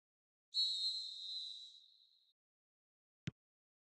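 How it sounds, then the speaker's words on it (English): A referee's whistle in a PS4 football video game signals half-time with one long, shrill blast that tapers away, followed by a short sharp click. "there is the half-time whistle"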